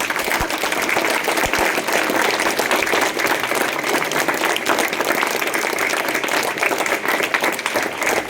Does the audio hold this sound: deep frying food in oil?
no